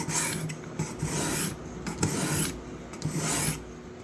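A metal file is swiped over a pocket knife blade during restoration: about four rhythmic rasping strokes, close and crisp, each a gritty scrape followed by a short pause, with no voices.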